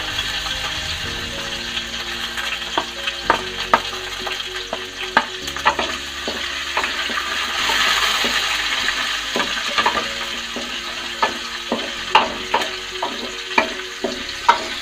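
Garlic cut into round slices frying over a low flame, likely in coconut oil, for an egg roast: steady sizzling in the pan broken by repeated sharp clinks and scrapes of a spoon stirring, with a brief louder surge midway.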